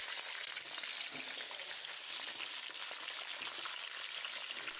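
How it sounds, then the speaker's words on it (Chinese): Fish sizzles in hot oil in an oiled iron wok, a steady, even crackle and spatter that continues alone at moderate volume. "油热以后把鱼下锅，刚下锅千万不要着急翻动，先让鱼皮定一下形"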